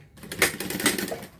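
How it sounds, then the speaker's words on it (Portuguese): A sewing machine stitching a zipper onto a box-style pencil case, with one short, close burst of rapid stitching, no talking. "alinho bonitinho aqui, ó, e passo uma costurinha de segurança."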